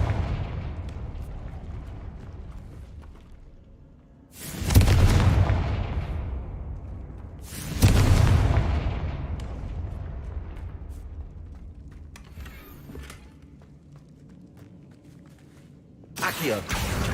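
Confringo fire spells blasting in the Hogwarts Legacy video game: three loud booming bursts spaced a few seconds apart, each with a long rumbling tail, over a low game ambience.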